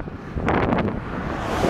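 Wind buffets a microphone while cycling along Interstate 8 through a California desert, a loud continuous rumbling roar with a stronger gust near the middle and no speech.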